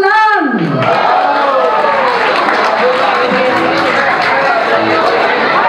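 A fundraising gala crowd applauds and cheers to welcome a celebrated female singer, with sustained clapping and loud chatter mixed throughout, following a brief voice at the start.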